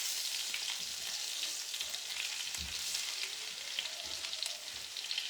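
Potatoes browning in a frying pan make a steady, close sizzle and crackle of hot fat throughout, with occasional soft bumps of the pan or utensil and no talking.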